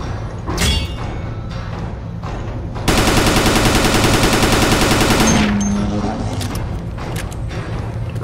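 Rapid automatic gunfire from the Dead Effect 2 video game during a boss battle, one loud sustained burst of roughly two and a half seconds rising sharply over quieter game ambience and effects.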